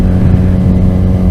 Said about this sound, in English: exhaust that you can hear.